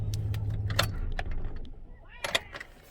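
Car keys jingle in short metallic bursts as the ignition is switched off, a low engine hum fading out early beneath the clinks, with another cluster of sharp jangles near the end, close by.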